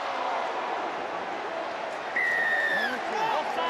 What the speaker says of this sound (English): And Leigh have got the crowd with them